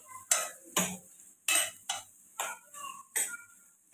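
A spoon scrapes and clinks against a pan while spices for an Andhra-style fish curry are stirred, in about eight sharp separate strokes over a few seconds, close and clear, with no talking.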